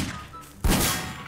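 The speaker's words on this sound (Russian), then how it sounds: "взорвал опять пулеметы" Machine guns blowing up in Garry's Mod: after a quiet stretch, a single sudden loud blast hits, followed by a rough, rumbling tail of debris that slowly dies away.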